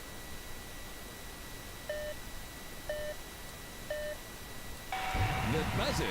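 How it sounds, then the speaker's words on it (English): A buzzer in the Robot Arena robot combat video game signals the start of the match: three short, evenly spaced electronic beeps about a second apart, followed by a burst of louder game action, under quiet commentary. "The buzzer signals the start of the match."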